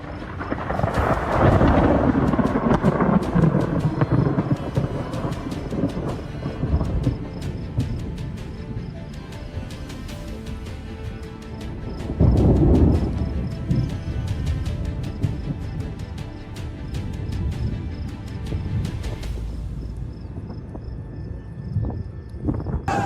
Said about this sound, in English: Dark clouds gathered above farmland, followed by lightning that struck moments later.